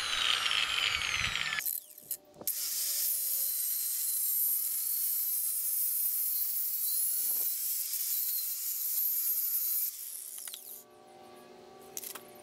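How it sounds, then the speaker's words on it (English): A cutting tool slicing through a Wheel Horse Model 401 muffler pipe close to the elbow, a sustained high-pitched metal-cutting whine that starts, holds steady for several seconds and then winds down, with clatter at the ends. "I'm gonna cut the pipe close to the elbow"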